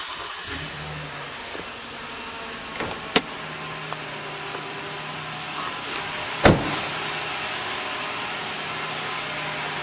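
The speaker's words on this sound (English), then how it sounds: "Now we'll start her up." A 2011 Toyota Sienna minivan engine starts with a brief surge, then idles in a smooth, steady hum, with a couple of sharp clicks along the way and no talking.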